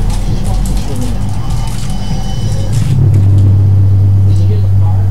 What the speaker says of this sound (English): Did you hear the car?